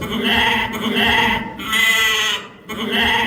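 A loud goat bleat plays as a ringtone, a wavering bleat repeated in three bursts separated by brief gaps, close and clear.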